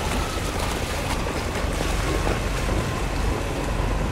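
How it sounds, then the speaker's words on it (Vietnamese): A barge passes a large rice-husk boat on a river in the Mekong Delta, heard as a steady wash of water and engine rumble with wind buffeting the microphone throughout. "Đây là một chiếc xà lan nó đang đi ngang chiếc ghe chấu nè các bạn"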